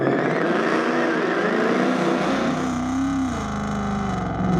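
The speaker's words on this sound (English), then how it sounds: "Kind of a baby burnout." A 2019 Mustang GT does a small burnout, with a loud, raspy V8 roar and a rising, wavering engine note carrying continuously, close by.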